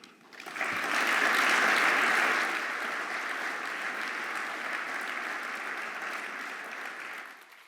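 Audience applause at a Geneva ceremony marking the Refugee Convention's 75th anniversary swells quickly, peaks loud for a second or two, then settles into sustained, steady clapping before fading at the end.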